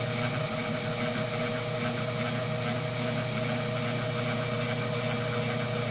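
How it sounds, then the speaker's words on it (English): Metal lathe spindle turning at its slowest speed, around 150 to 350 RPM, while a coax indicator is dialed in, giving a steady, continuous mechanical hum and whir with no pauses and no talking. "I run it in the slowest speed I can in my machine."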